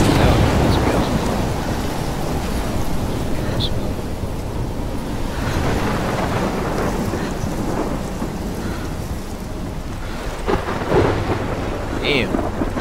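Thunderstorm with steady heavy rain in the video game Life is Strange, a dense constant downpour with low thunder rumbling underneath and a few sharper crackles near the end.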